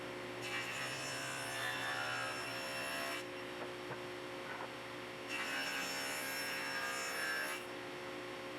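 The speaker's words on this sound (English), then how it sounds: "I could just use a card scraper to finesse the glue line to make sure everything was nice and smooth" A card scraper smooths a wooden glue line in two long passes, each a soft, fairly quiet rasping shave separated by a short pause with light taps.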